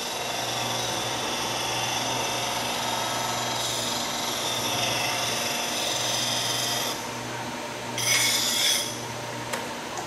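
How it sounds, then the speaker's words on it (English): A woodturning gouge is sharpened on an instant grinder, a loud steady motor whine with a continuous abrasive rasp of steel on the wheel, with a brief harsher burst of grinding near the end. "I can just sharpen my gouge on here."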